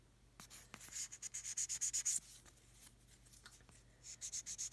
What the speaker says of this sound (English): I'm just sanding it to make sure it's flat so we don't end up with any gaps.